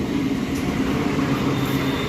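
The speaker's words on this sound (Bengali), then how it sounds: "এটা হচ্ছে হাওড়া কাটোয়া লোকাল।" A Howrah–Katwa local train passes Bhadreswar station, making a loud, continuous rolling rumble of wheels and carriages close by.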